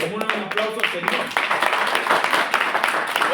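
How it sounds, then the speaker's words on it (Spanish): Congregation applause at a church gathering of pastoral students in Peru, lively clapping with sharp individual claps over a loud crowd wash, with voices calling out over it. "Como un aplauso al Señor."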